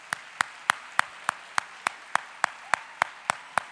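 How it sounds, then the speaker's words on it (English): Clapping for educators at a regional Scholastic Art & Writing awards ceremony comes as sharp, evenly spaced claps in a steady rhythm, about three per second, heard alone over a faint room murmur. "Can we give our educators another round of applause?"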